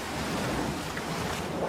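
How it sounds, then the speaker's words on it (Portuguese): Ocean waves breaking on the Azores coast, a continuous loud roar of surf mixed with wind buffeting the microphone, heavy and unbroken with no voices. "As ondas encontram a terra pela primeira vez ao fim de milhares de quilómetros."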